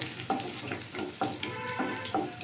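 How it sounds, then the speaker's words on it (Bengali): Onion sizzles steadily in hot oil in a pan while a spatula stirs it, sharp scraping strokes landing roughly every second over the constant hiss; no one speaks. "পেঁয়াজটা একটু লাল করে ভাজা হবে"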